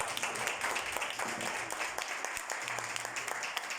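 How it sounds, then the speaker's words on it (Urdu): A church congregation applauds loudly at a worship service, dense continuous clapping from many hands filling the room with no speech. "خدا کے لیے زوردار تالیاں بجائیں"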